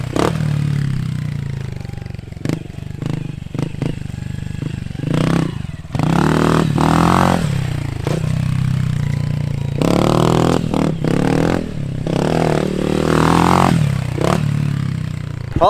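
A 110cc pit bike engine idling while it warms up, then revving in repeated surges that rise and fall, loud and close, with clattery mechanical noise between the revs.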